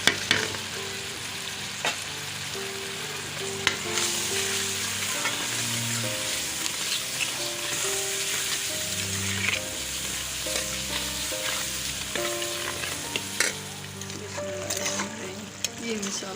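Spices frying and being stirred in a pan for Lahori street-style chikar cholay white chickpea curry, a loud steady sizzle broken by scraping stirs, with faint background sounds throughout.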